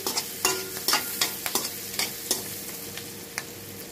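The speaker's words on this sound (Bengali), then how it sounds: "তেলের মধ্যে মরিচ কাটিয়ে ভাজা ভাজা করবো" Chopped chili frying in hot oil for a chicken dish, a soft sizzle punctuated by regular scraping strokes of a spatula in the pan, each stir sharp and close, no voices.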